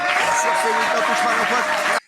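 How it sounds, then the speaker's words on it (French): Sustained applause from a studio audience, loud and steady for about two seconds with a faint voice underneath, then an abrupt cut. "Applaudissements pour lui."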